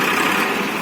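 A tractor engine idles in a brief, steady, loud rumble with broadband mechanical noise, heard alone.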